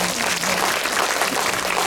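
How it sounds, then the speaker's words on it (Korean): Sustained, dense audience applause for actor Do Kyung-soo fills a cinema hall during a film Q&A event, a steady loud wash of many hands clapping together. "도경수 씨에게 전 큰 박수를 보내고 싶습니다. 박수 한번 부탁드립니다."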